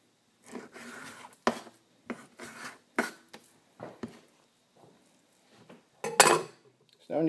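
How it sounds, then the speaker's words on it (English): A knife slices through pork chops into strips on a wooden board, giving sharp separate cuts and scrapes with short pauses between them. Faint talk can be heard. "you're going to cut through them in strips, the same way you would do a pork chop"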